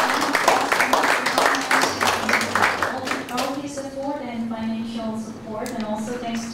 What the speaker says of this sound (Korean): 여러분 박수로 환영해 주시고